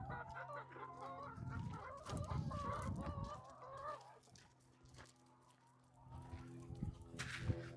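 Chickens on a pasture-raised egg farm cluck and murmur close by in uneven bursts, louder at first, then quieting briefly before picking up again, with faint handling noise around them.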